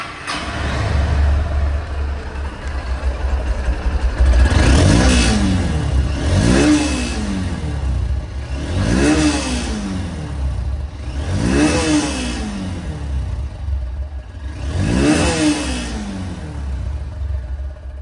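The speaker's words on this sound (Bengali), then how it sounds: "তো গাড়িটি এখন সাউন্ড কোয়ালিটি দেখাবো।" A Honda X-Blade motorcycle engine revved repeatedly, about five rising and falling throttle blips over a steady idle rumble, close and loud with no speech.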